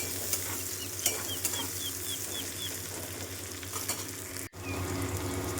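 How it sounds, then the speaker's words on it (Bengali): Onion, dried red chilli and cumin seeds sizzle steadily in hot oil in a village kitchen, a constant broad hiss with occasional stirring clinks, while a bird chirps in the background. "এখানে এই যে তেল দিয়েছিলাম, শুকনো লঙ্কা, জিরে ফোড়ন আর পেঁয়াজ কুচি দিয়েছি। এখন লাল লাল করে এটাকে ভেজে নেব।"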